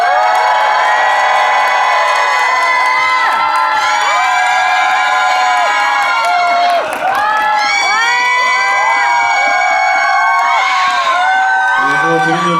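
A cinema audience at a stage greeting for the film Dream at CGV Yongsan cheers and screams loudly as the director and actors walk out, a dense sustained roar of shrieks and whoops.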